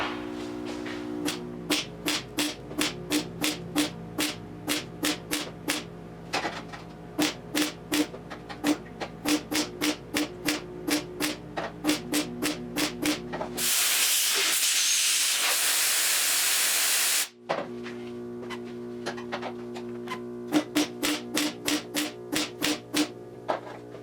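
Repeated short bursts of welding crackle on the door bottom of a 1972 Triumph GT6, with a brass backing plate behind the seam. The bursts come in a quick rhythmic series, break for a few seconds of loud steady hiss, then resume.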